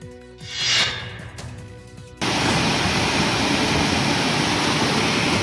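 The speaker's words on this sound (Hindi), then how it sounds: "महाड़ का झरना खतरनाक तरीके से बह रहा है।" A waterfall at Mahad in Raigad runs in flood after heavy rain, a loud, steady, broadband roar that cuts in sharply after a quieter, tonal opening of about two seconds.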